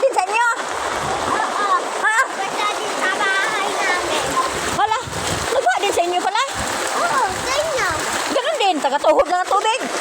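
Heavy afternoon rain in Baguio splashes and pours steadily and loudly, like running water on surfaces, while children talk and shout over it throughout.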